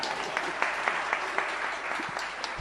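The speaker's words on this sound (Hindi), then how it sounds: "आपकी तालियों से ज्ञात होता है कि आप सुन रहे हैं।" Audience applause at a spiritual discourse by Acharya Vidyasagar Ji Maharaj, a steady dense clapping throughout from a large seated crowd, moderately loud with no voice over it.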